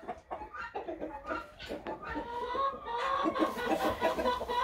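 Vorwerk hens, blue and black, clucking on a small poultry farm, a steady stream of soft clucks and murmurs building to a busier, louder chorus of several birds close by.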